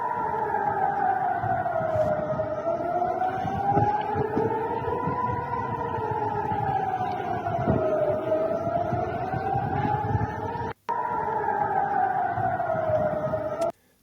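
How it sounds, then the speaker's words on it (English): Air raid sirens wail loudly in Jerusalem during a ballistic missile attack, their pitch slowly rising and falling in long sweeping cycles, with a brief break near the end before resuming. "Here we have some sirens, air raid sirens going off in Jerusalem."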